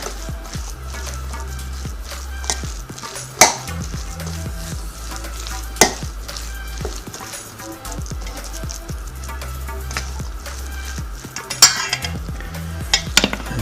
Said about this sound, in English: you're going to try to mix it together, mix the flavors together